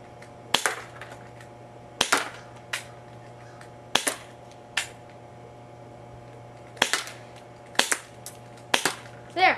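Five sharp pistol shots from a Ruger P345 fired at a target about 15 feet away, spaced irregularly, each a crisp crack with a brief decay, heard alone against quiet outdoor background.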